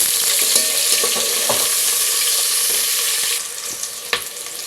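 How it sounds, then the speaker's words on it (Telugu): Chopped onions sizzle loudly in a pan of hot oil for egg biryani, with a few stirring scrapes; the hiss drops to a softer fry near the end, broken by one sharp clink. "ఈ ఉల్లిపాయలు బ్రౌన్ కలర్ వచ్చేంత వరకు వేయించుకోవాలి"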